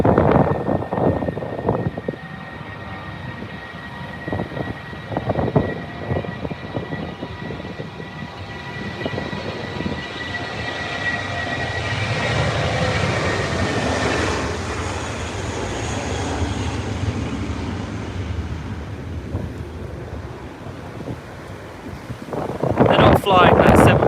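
An airliner lands in strong wind at Heathrow Airport, its engine roar swelling and then fading against heavy wind buffeting on the microphone, with a voice talking briefly near the end.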